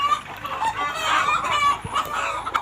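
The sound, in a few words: layer chickens clucking in poultry shed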